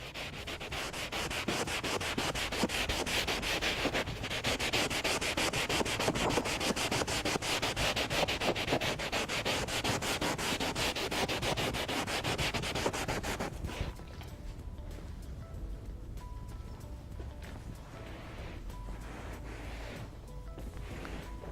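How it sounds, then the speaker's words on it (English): Steady rubbing of leather prep on a restored leather surface removing colourant, a continuous close abrasive swishing that runs for about fourteen seconds, then drops to a quieter, softer scuffing. "Rub some of the leather colourant off."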